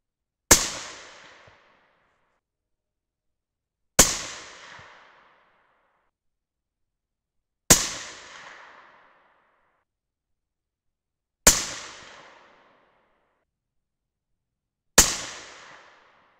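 Five sharp, loud rifle shots from a 6.5 Creedmoor loaded with CCI 200 large rifle primers, evenly spaced about every three and a half seconds, each a crisp crack with a short decaying echo, then silence.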